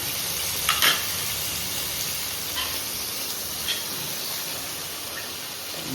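Parboiled cauliflower fries in a pan with a steady hissing sizzle and a few brief stirring clicks and scrapes.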